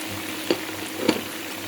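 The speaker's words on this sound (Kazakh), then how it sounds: "Пиязын да әдемілеп қуырып аламыз қазір." Chopped onions fry in a pan with browned meat for a carrot pilaf, giving off a steady, soft sizzle broken by two quick scraping stirs.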